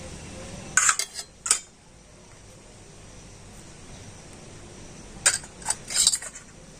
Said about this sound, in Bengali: আর চামচ দিয়ে আমের এই পাল্পটা আমি তুলে নিচ্ছি